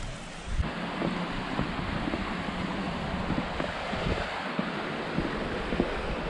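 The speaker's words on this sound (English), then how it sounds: "I love to hear water going across rocks." A stream at Table Rock State Park in South Carolina flows across rocks with a steady, broad rushing wash, heard fairly close and mixed with some wind buffeting on the microphone, with no voices.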